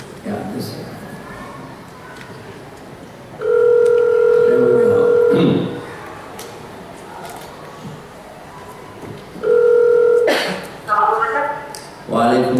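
Telephone dialing to call someone over a speakerphone in a masjid: two bursts of steady dual-tone beeps about two seconds each, separated by quiet room tone, with people talking and a chuckle around them.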